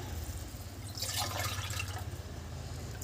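Water poured into a pot for green-chili chicken pulao gives a brief splashing, trickling burst near the middle, over a steady low hum, close by and moderately loud.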